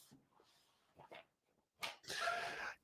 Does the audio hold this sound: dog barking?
yes